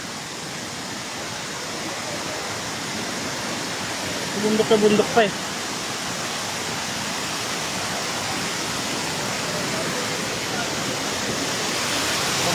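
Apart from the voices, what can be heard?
water flowing at Sprite Falls waterfall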